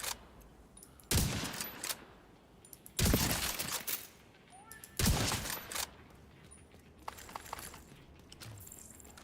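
Suppressed gunfire in the video game The Division comes in three separate short bursts, fairly quiet and muffled, over a low game background with no clear speech.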